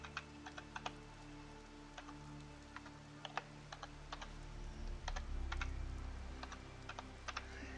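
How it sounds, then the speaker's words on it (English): Keys click on a computer keyboard in quick short bursts of typing, faint and close, with a low background hum and no voices. "and you type"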